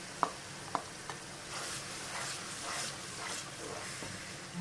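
Tomato paste fries with potatoes and spices in a pan for aloo chicken, a soft continuous sizzle with a few utensil clicks at the start and gentle stirring scrapes throughout.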